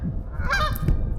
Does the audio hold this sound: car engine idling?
no